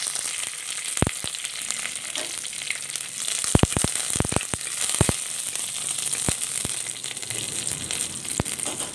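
Curry leaves and cut dried red chillies sizzle with mustard seeds in hot oil, a constant close frying hiss broken by sharp crackling pops, clustered in the middle.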